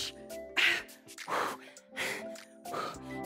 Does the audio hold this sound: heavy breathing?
yes